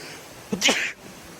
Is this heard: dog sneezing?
yes